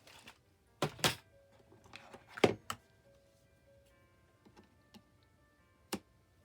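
A few crisp scissor snips cut off thread while finishing a hand-stitched needle keep, sounding as short, close clicks spaced apart in an otherwise quiet room.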